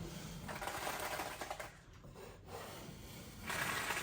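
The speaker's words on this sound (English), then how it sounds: "I'm scraping this stuff off" Popcorn texture being scraped off a ceiling makes a continuous rough, gritty rasp, close and fairly quiet, in long strokes that ease briefly midway and then grow louder again.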